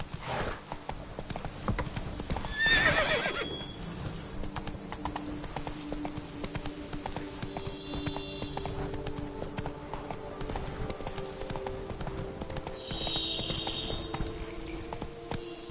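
A horse's hooves clip-clop steadily and close by over a low, continuous background score in The Witcher 3: Blood and Wine, with a brief brighter rustle near the start.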